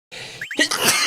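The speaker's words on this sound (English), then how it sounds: "Oh no, I'm about to sneeze." A single sharp human sneeze, close and loud, with a quick inhaled build-up of short squeaky breaths before the explosive burst and a brief tail.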